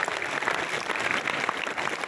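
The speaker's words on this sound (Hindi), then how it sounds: "ताली बजाओ" An audience at a spiritual talk applauds steadily, with dense, continuous clapping throughout and no pauses.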